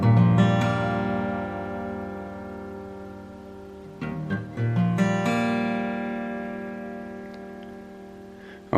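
An acoustic guitar in an alternate tuning strums ringing open chords that sustain and slowly decay, with a couple of quicker plucked notes midway, close and clear.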